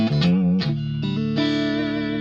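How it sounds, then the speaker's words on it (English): An electric guitar played through a Fractal Axe-FX III set to a small room reverb rings out in sustained chords and single notes. Each one carries a short, close ambient tail, loud and alone with no voices. "Okay, this is the reverb."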